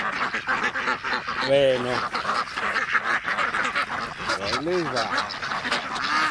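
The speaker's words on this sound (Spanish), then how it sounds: "pisó la pata un pato" Ducks in a park quack and honk loudly at close range while being fed, with two clear drawn-out calls standing out among constant bird chatter as someone talks to them.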